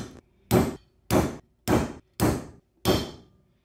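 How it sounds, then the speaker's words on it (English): Five sharp metallic hammer strikes on a socket, driving a bearing into a 1994 Kawasaki KX250 engine, at an even, unhurried pace, each ringing briefly before fading, close and loud with no talking. "Back to the socket and hammer."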